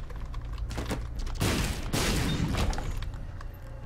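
A bomb goes off in The Binding of Isaac: Rebirth, bursting into a loud, dense roar that holds for about a second and a half before it fades, with a few sharp clicks around it.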